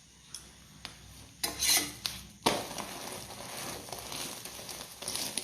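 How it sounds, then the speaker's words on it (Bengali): Food frying piece by piece in a pan, a few clattering taps of a utensil, then a soft steady sizzle that swells and continues quietly at close range. "আমি একে একে সব ভেজে নিই"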